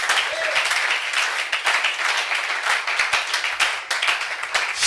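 A church congregation at a Thursday worship service applauds the Lord with steady, sustained clapping that fills the room. The clapping stays loud and even throughout, with a few voices faintly underneath.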